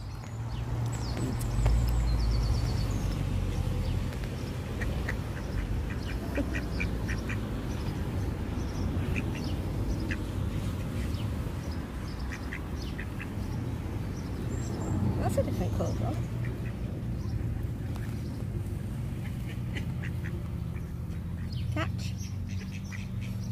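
Ducks quack repeatedly at close range on the water near castle ruins, their calls mixing with chirping birds and steady outdoor background noise while people talk nearby.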